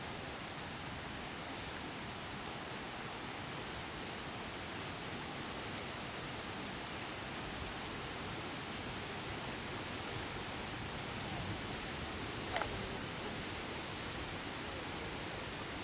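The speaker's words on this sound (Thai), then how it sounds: "เสียงน้ำตก" A waterfall produces a faint, steady, even rush of water noise with no distinct splashes and no voices.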